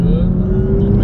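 A BMW M2 engine at about 40% throttle while drifting, giving a close, steady droning growl with a level pitch for about a second.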